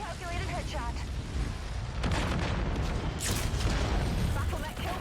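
Laser weapons fire at an enemy mech during a MechWarrior 5: Mercenaries battle, a dense roar of blasts and booms running through the whole stretch with bright bursts midway. Game voices and talk sound over the top.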